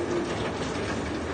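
Pigeons at a bird auction give a dense, continuous murmur of soft cooing, close and steady through the short stretch, with no voices over it.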